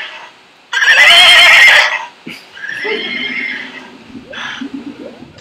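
A horse neighs loudly in Super Mario Maker, a bright, shrill whinny that rises and falls for about a second, followed by quieter game sounds and faint voices.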